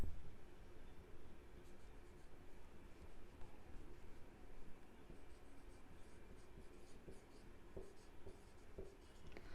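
A pen scratches steadily across paper, writing out a short entry in an accounts book, a close, continuous dry scraping with small irregular strokes and no voices.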